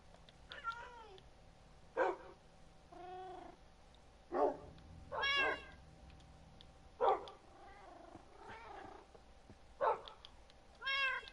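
Cats meowing in the Minecraft video game: a string of separate synthetic meows, roughly one every second or two, clear and close with no voices.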